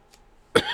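A single short, sharp cough bursts out near the end after near silence, close and fairly loud.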